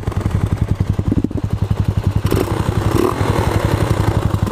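Romet K125 motorcycle engine running roughly, a loud, close, uneven rapid thumping that shakes and clatters steadily throughout, with a slightly rougher stretch midway.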